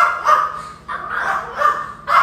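A female dog barks three times, close and loud, in a rough, even rhythm with short gaps between the barks.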